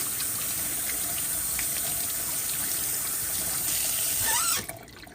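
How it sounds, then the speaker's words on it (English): Warm running water from a tap splashes steadily as hands are washed underneath, then the flow stops abruptly near the end, leaving quiet. "Use warm water and wash your hands roughly for 20 seconds."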